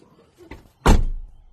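A 2023 LDV Mifa Executive's car door swings shut with a single solid, close thump, preceded by a faint click of the latch mechanism.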